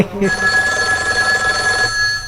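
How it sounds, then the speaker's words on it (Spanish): A 1980s telephone rings loudly with a sustained electric bell tone lasting about two seconds, in a sports broadcast studio setting. "Tenemos el teléfono TBT de los años 80"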